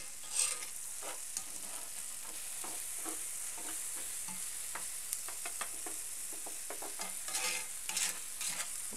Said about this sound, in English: Making sure I've got all these onions nicely coated.